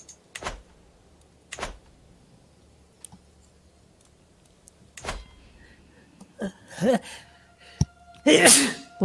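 A single loud sneeze bursts out near the end, after quiet stretches punctuated by occasional clicks and thumps in a room during a Crusader Kings 3 gaming session.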